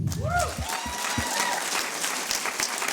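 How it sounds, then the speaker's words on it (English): Audience at a hackathon closing ceremony applauds a prize-winning team, a broad wash of clapping with a few voices and cheers rising briefly at the start, steady and moderately loud throughout. "please clap for them"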